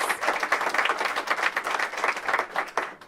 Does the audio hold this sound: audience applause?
yes